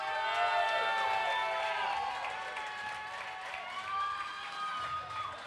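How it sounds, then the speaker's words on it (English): Crowd applause and cheering for swimsuit contest contestants at a charity event, a dense sustained roar of claps and shouts lasting throughout with steady loudness. "let's hear another big round of applause for our contestants tonight"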